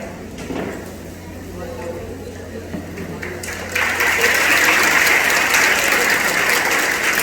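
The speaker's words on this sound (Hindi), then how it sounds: "पहले कृपया ताली ना बजाए, जय श्री राम बोल सकते हैं।" Crowd applause at a Durga Vahini rally stage event in Ballabgarh, with clapping swelling louder and denser partway through amid background voices.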